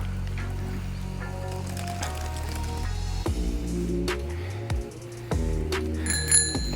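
A bicycle bell rings several times in quick, bright dings over a steady rolling background hum, among rice fields in Ninh Binh, Vietnam.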